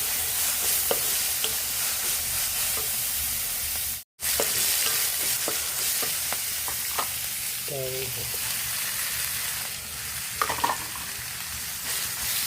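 Chutney ingredients with coriander leaves, green chilli, garlic and grated coconut sautéed in a pan, giving a steady close sizzle with scattered stirring scrapes throughout and a brief dropout partway.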